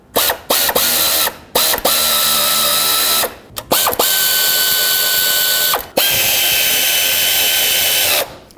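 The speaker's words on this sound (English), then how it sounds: "I'm just gonna take my quarter inch ratchet and double check that these are actually nice and tight." Quarter-inch ratchet clicking on thermostat housing bolts of a 2007-2010 Chrysler Sebring 2.4L, several close, loud bursts of rapid pawl clicks separated by short pauses, no talking.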